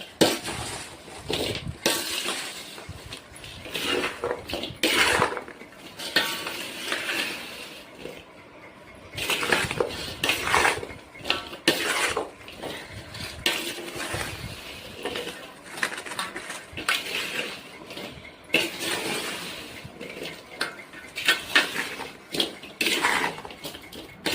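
Pickle ingredients being mixed by hand in a bowl, irregular clattering and scraping of a spoon against the bowl in bursts with brief pauses, close and without talk.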